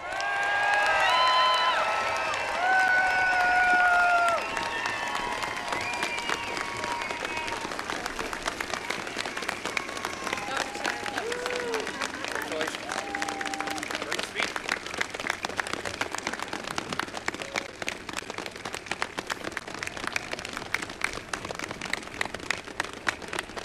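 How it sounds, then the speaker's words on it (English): A crowd at Michigan Governor Gretchen Whitmer's inauguration applauds and cheers after her address, loud sustained clapping with whistles and shouts early on, continuing steadily throughout. "Lots of applause and cheers for the address from the 49th governor of the state of Michigan, Gretchen Whitmer"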